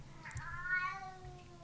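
A pet cat gives one drawn-out meow, faint and slightly distant, rising then trailing off over about a second in a quiet room.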